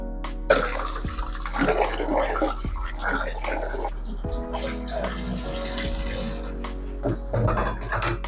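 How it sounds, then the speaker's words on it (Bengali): Rice is washed in water for beef biryani, with sloshing, swishing and trickling as grains are stirred and rinsed by hand, close and continuous, over a steady low hum. "চালটা ধুয়ে নিই"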